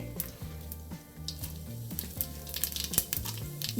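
Bay leaf, stone flower and cinnamon crackle in hot oil in a pot while biryani spices are fried, giving a steady close sizzle with soft pops and faint stirring over low music-like tones.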